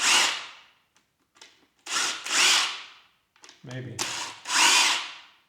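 Angle grinder with a Makita power cord fitted, run in four short bursts that each whine up loudly and wind down, close to the microphone, with a brief spoken word between bursts.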